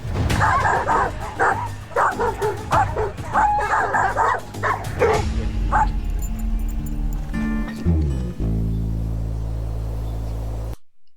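Several dogs arriving together bark and yip in rapid, overlapping bursts, close and loud. The barking thins out partway through, leaving a steady hum and faint whimpers.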